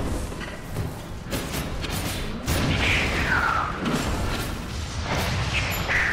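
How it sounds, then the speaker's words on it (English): A robot explodes in a video game with booming thuds and crashing bursts, surrounded by mechanical clatter and a couple of whooshing swells. "I'm happy that the explosion of that robot didn't actually hurt me"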